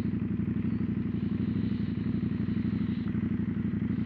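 Loud, steady engine of a CFMOTO 800NK motorcycle at close range, a dense rumbling drone with a rapid pulsing beat that holds level throughout with no voices.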